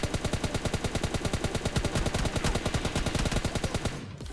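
Rapid automatic gunfire in a mobile battle-royale shooter game, a dense, loud burst of evenly spaced shots firing nonstop for about four seconds before cutting off abruptly.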